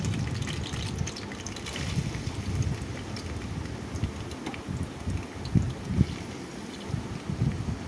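Onions, green chillies and curry leaves fry in hot oil for a chilli and snake gourd masala curry. A loud, steady broadband sizzle hisses continuously, with occasional louder crackles and no talking.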